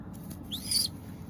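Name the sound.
young Madras pigeon squeaking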